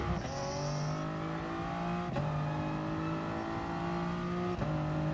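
A race car engine in the Gran Turismo Sport video game drones at high revs with steady harmonic tones, briefly dipping at two quick gear shifts, loud and continuous with no talk.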